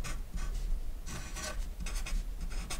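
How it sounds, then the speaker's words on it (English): Pen or pencil writing math by hand, scratchy strokes in short bursts with brief pauses between them, close and fairly soft. "Now let's write down the last two part."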